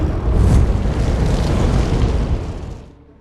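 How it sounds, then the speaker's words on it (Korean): A car bomb goes off as the engine is started, a loud, close blast with a heavy rumbling boom that holds for about two seconds and then fades away to silence. "하지만 시동을 걸자 차량은 폭발하게 되고"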